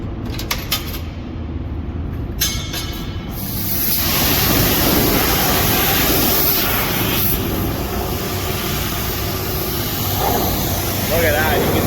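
A pressure water spray at a car wash rushes loudly and steadily as it flushes out a grain truck's tank, with a broad hiss that builds and holds.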